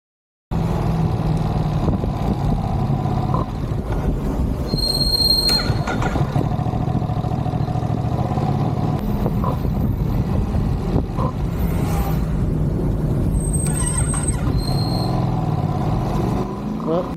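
A motorcycle engine stalls in recorded passes, with a steady low engine rumble, brief high squeals and whines cutting in now and then, and the running note dropping and catching over a long stretch.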